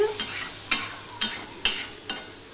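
Curry masala being stirred and fried in a pan for a prawn curry, a steady sizzle broken by four or five rhythmic spatula scrapes, close and clear, with no talking.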